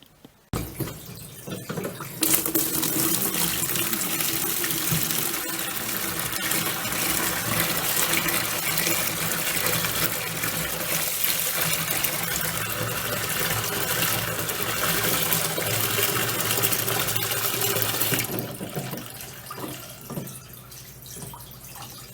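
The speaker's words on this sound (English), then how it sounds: "we're going to go fill this with water, cold water" Cold water gushes steadily from a tap into a container for a long stretch, a constant close rushing hiss that then cuts off.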